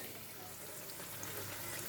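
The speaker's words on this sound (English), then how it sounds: "You can see how I'm frying the eggplant." A steady, soft crackling hiss of eggplant frying in hot oil, continuous and close, with no other sounds standing out.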